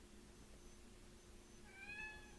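A pet cat gives a short meow near the end, a brief tonal cry rising over a steady low hum and faint room noise.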